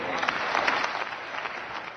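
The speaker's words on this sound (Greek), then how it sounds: "Τα χειροκροτήματα μετά την ομιλία του Γερμανού Υπουργού ήταν πολλά." Sustained applause fills a session of the German parliament after Finance Minister Schäuble's budget speech, a dense, steady crowd clapping with no pauses.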